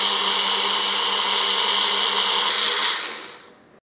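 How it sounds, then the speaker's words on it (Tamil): A blender runs at high speed, grinding carrots with water and two ice cubes in a loud, steady whir. It continues unbroken for about three seconds, then winds down and fades out. "இதில் 2 ஐஸ் கியூப்ஸ் போட்டுட்டு இப்போ நம்ம இதை அரைச்சிக்கலாம். நல்லா ஒரு ஹை ஸ்பீடில் 5 நிமிஷத்துக்கு அரைச்சிக்கோங்க."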